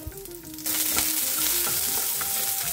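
Onion and garlic for a banana flower gravy land in hot oil, setting off a sudden loud sizzle that keeps crackling steadily as they are stirred and sautéed. Nobody talks.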